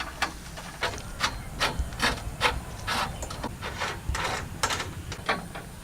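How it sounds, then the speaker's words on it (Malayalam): Bolt being tightened with a tool on a homemade water cycle built from a bicycle, a close run of scraping, rasping clicks repeating at an irregular pace over a low background hiss. "നമ്മൾ നേരെ നമ്മുടെ ബോൾട്ട് ഇട്ട് മുറുക്കാൻ പോവാണ്"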